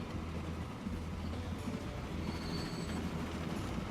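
Train rolling along rails in the rail-management game Transport Fever, a steady low rumble with rhythmic wheel thumps throughout and faint high squeals in the background, no talking.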